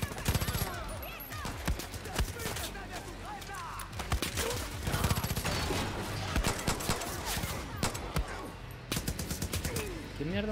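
Gunfire crackles in the video game Far Cry New Dawn, rapid bursts of shots and automatic fire repeating throughout at close range, with someone talking over parts of it.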